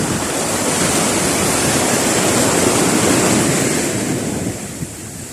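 Continuous roar of small ocean waves with wind buffeting the microphone, loud and steady, easing slightly near the end.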